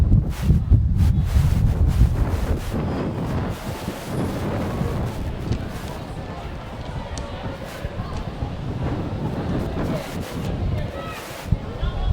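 Wind buffets the microphone at a women's rugby league grand final ground, a heavy low rumbling roar that is strongest at the start, while a commentator talks over it.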